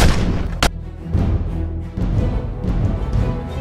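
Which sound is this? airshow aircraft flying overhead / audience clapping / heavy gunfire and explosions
heavy gunfire and explosions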